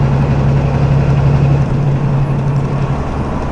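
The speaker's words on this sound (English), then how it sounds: "Let the engine brake do its thing." A manual 13-speed semi truck runs its engine brake on the I-80 descent near Elk Mountain, Wyoming: a loud, continuous droning rumble with a steady low hum and no pauses.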